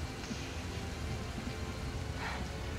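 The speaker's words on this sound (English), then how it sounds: "Just leave me stand in the rain." Steady rainfall in a Resident Evil 6 cemetery scene, a constant hiss of drops with faint rumble beneath, fairly quiet and unbroken, no talking.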